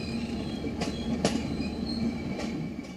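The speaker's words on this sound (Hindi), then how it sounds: "सोमवार दोपहर जब ये ट्रेन एक बार फिर बहानगा बाजार रेलवे स्टेशन से गुजरी" The Coromandel Express passes Bahanaga Bazar railway station in Balasore, India, its wagons rumbling steadily throughout while short metallic wheel squeals flare up several times over the noise.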